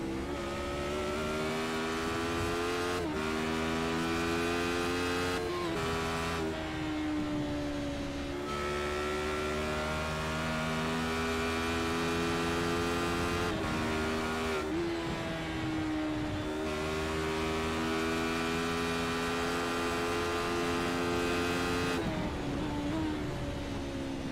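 Onboard engine of a Radical race car in a sim racing game: a loud, steady, buzzing drone that climbs in pitch, then drops at each gear change. Several upshifts and downshifts are heard, and there is no talking.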